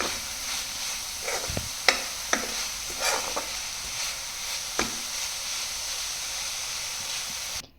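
Spiced vegetables with turmeric, cumin powder and garam masala being stirred in a pan for veg momo filling: a steady sizzle with a few scraping clinks of the spoon, no talk.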